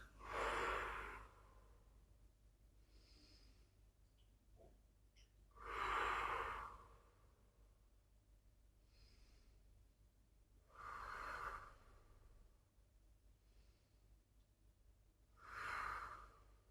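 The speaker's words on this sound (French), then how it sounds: "On reste là pour 6 cycles de respiration. Inspire, expire." Slow, deep breathing during a stretching pose, four long audible exhalations spaced about five seconds apart with quieter inhalations between, close and soft, with no talking.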